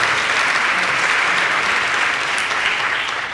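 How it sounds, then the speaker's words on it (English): Loud, sustained applause fills a hall for level 1 string students at a Christmas strings concert, a thick continuous roar of many hands clapping close by without a break. "please, a big round of applause for all of the level 1 masters"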